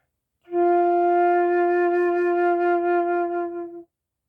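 A flute holds a single sustained low F, a steady clear tone lasting about three seconds, played alone and close with no talking.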